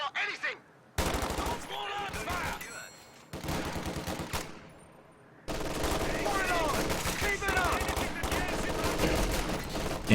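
Machine gun fire from a garrisoned MG in Company of Heroes 2, heard as repeated rapid rattling bursts amid battle noise, broken by short quiet gaps, with a voice commenting over parts.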